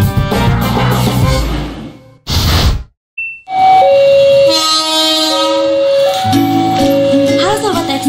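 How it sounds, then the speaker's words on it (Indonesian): A train runs along rails with loud rumbling and clatter, then short gaps of silence. After them come bright, sustained chime-like tones and more rail noise. "Kereta api masih memanfaatkan roda dengan rel sebagai lintasannya."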